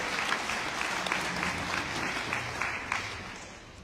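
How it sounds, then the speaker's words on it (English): A crowd applauds steadily, with dense, continuous clapping that stays even before fading slightly at the end. "Big hand of applause for all three of them."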